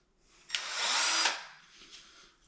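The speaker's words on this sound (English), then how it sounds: "we're drilling holes on this hole and on this one" Power drill boring a hole for a bathroom vanity door handle, one close, loud whirring burst of under a second that spins up, holds steadily, then winds down and fades.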